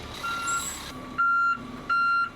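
A pickup truck's reversing alarm sounds in loud, evenly spaced beeps, three pulses in quick succession over a steady mechanical hum, with no voices.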